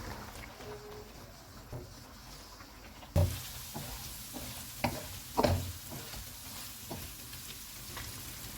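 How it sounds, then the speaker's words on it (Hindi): Boiled beef frying in oil on a full flame, a soft background sizzle broken by occasional sharp stirring clanks of a utensil against the pot, no talking. "अब हम चूल्हे को फुल कर देते हैं। ऑयल डालेंगे और इसको ऑयल अलग होने तक भून लेंगे।"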